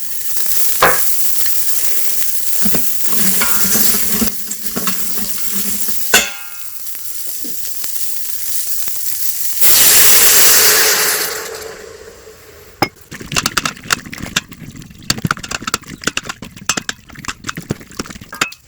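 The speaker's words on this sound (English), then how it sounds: "now our next step in the process is to deglaze the pot. I'm going to use some onions and beef broth." Onions and beef broth sizzling loudly as an Instant Pot is deglazed for barbacoa, with stirring and scraping, a surge of hissing steam when liquid hits the hot pot, then clinks of a utensil against the metal insert.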